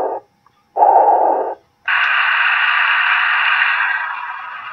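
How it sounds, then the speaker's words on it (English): Steady rain-like hiss from a Cloud b Sleep Sheep plush toy's small speaker, fairly loud and even, following a couple of brief separate bursts of sound at the start. "That's the sound for the rain."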